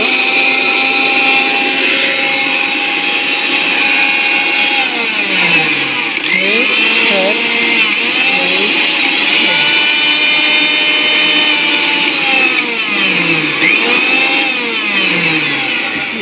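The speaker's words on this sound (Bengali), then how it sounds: "দেখেন এই যে ব্লেডগুলো খুব দ্রুত" A new-model Vision electric blender runs at full speed, a loud, continuous high-pitched motor whine with its blades spinning fast, the pitch dipping and rising briefly as the load shifts.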